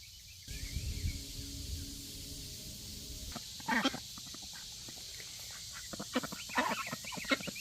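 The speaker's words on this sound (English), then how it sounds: "These are Jason's baby ducks, and I call them helicopter ducks because they like to be wherever we are" Baby ducks make short, scattered peeps and chirps outdoors in a garden. The calls come in bursts over a steady background hum, with a low rumble near the start.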